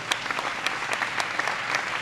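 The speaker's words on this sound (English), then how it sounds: "a warm applause for our representative from Colombia, Rocio Restrepo." Audience applause fills a bowling arena at a women's world cup semifinal, a dense steady clapping from a moderate crowd lasting two seconds.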